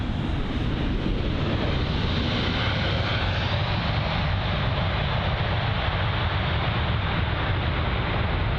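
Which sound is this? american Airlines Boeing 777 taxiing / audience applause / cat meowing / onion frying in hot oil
american Airlines Boeing 777 taxiing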